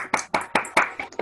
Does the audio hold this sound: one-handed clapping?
yes